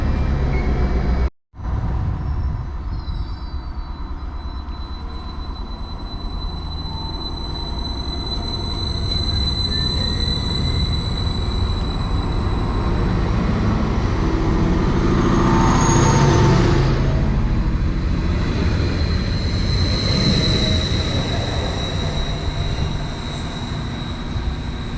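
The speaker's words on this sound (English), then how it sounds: "So there goes 755408, departing out, heading over to Lowestoft from Norwich" Greater Anglia unit 755408 pulls out of a Norfolk station on the Norwich to Lowestoft line. A steady, rising rumble and hum build and swell through the middle as it moves off, fading slightly toward the end, with no talking.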